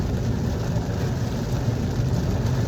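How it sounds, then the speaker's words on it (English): Rain falls steadily outdoors, a dense, even hiss with a low rumbling undertone, constant and unbroken with no voices. "it's raining, y'all. I know y'all hear that"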